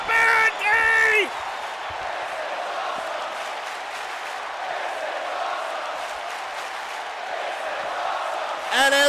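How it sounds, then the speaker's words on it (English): Crowd in a WWE 2K wrestling match video game, a steady loud arena roar that holds throughout, bracketed by short bursts of a tonal sound at the start and end. "this crowd is booing both men"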